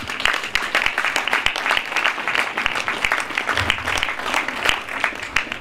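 A crowd at a regional producers' fair in a German town gives loud, sustained applause for the helpers, with dense clapping throughout and no talk.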